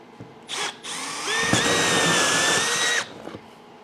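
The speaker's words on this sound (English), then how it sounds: "Then I can drill a hole." Power drill boring a hole in a workshop ceiling space, a short burst then a loud sustained whirring run of about a second and a half, close up and stopping abruptly.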